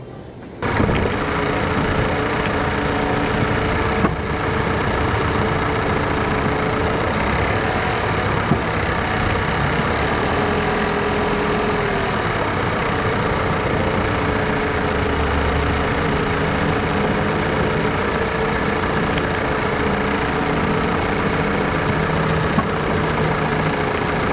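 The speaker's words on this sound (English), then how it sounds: "I went ahead and put my microphone underneath the hood here, and so you just get mostly engine noise" A 2018 Mazda 6 engine idles steadily and loudly, recorded by a microphone under the hood, a constant rumbling drone with a brief bump at the start.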